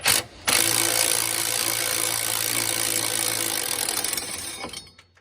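A power tool with a deep socket whirs steadily for about four seconds, removing exhaust manifold bolts on an L5P Duramax diesel truck. It follows a brief opening burst, then winds down.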